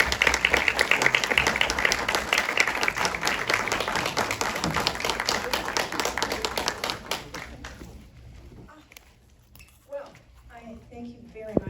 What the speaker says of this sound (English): Please give her a warm round of applause and a warm welcome